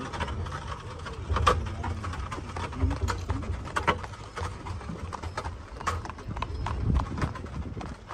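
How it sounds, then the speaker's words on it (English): Horse hooves clip-clop steadily on a trail during a corral horseback ride in Yellowstone, a rhythmic patter of hoofbeats close by, with faint voices around. "Oh, that's a beautiful horse right there."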